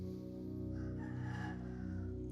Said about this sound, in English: rooster is going crazy here in Bali